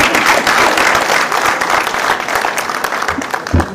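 Loud, dense applause from people on the stage at an award ceremony honouring the Vilas cooperative sugar factory, sustained throughout, with a few closer claps standing out near the end.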